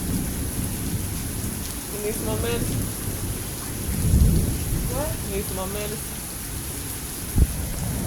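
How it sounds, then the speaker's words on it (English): Steady heavy rain with thunder rumbling through the whole stretch, one close crack near the end, while two people talk over it in the foreground. "Listen to the damn rain."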